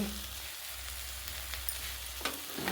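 Ground spices, including turmeric, chili, cumin and coriander powders, fry in a pan with a soft, steady sizzle and a couple of faint stirring scrapes near the end.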